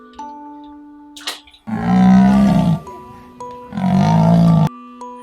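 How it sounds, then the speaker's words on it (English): A leopard roars twice, two loud, sustained rasping bursts about a second apart, close and clear over a soft steady background tone. "Leopard."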